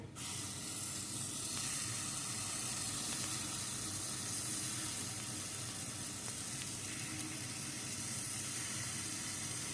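Aebleskiver batter sizzling and frying in a pan, with a steady, loud, hissing crackle that carries on unbroken with no voices over it.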